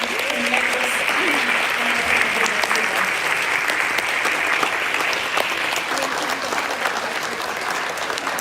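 Sustained, full applause rises from a graduation ceremony crowd honoring AIDHA volunteers and student ambassadors, a thick steady wash of clapping lasting several seconds.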